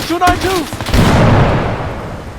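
Gunfire in the tactical shooter Bellum, a couple of sharp close shots followed by a heavier booming blast that rolls and fades, with players talking around it.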